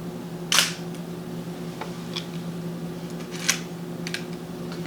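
Shutter of a Minolta 35 Model II rangefinder, a 35mm film camera, clicks sharply once as a picture is taken, followed by a few fainter mechanical ticks over a steady low hum.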